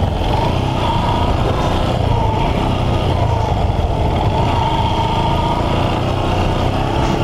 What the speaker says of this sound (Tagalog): ahon na ahon yan ang motor mga idol